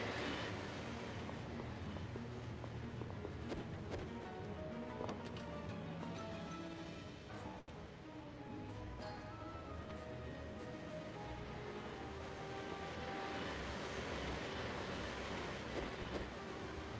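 A train rumbles and clatters steadily in the video game Insecticide, a continuous mechanical rolling drone with a brief dip midway, loud and alone without speech.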